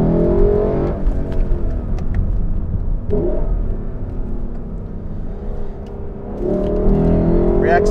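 A 2021 Lexus LC 500 Convertible in sport plus mode, its engine rumbling low and steady as it accelerates and swelling near the end, with someone talking over it throughout.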